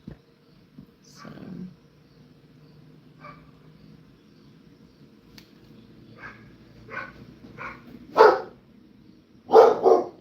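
A dog barks several times, faint and distant at first and then in louder, sharper bursts toward the end, over a quiet indoor hum with a low murmur of speech early on.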